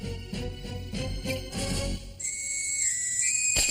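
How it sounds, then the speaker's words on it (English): A cartoon nose flute plays a thin, piercing whistle-like tune, a few sustained high notes stepping in pitch after a short stretch of other rhythmic sound, loud and alone without talk. "the nose flute."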